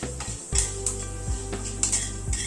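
Half a teaspoon of fenugreek seeds frying in hot oil in a pan, a steady low sizzle under repeated light metallic clinks and scrapes of a spoon against the pan, close and continuous, with no talking.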